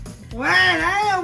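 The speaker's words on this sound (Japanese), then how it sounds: "猫の声聞こえた今" A drawn-out, wavering meow rises and falls over about a second, close and clear, with a man's short exclamation just before it.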